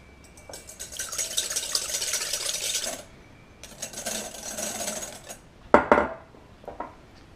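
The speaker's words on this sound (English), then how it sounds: "So you're just going to want to whisk this until you reach stiff peaks." Egg whites whisked by hand in a bowl for pancake batter, a steady scraping clatter of whisk against bowl in two long bursts, then a few sharper knocks near the end.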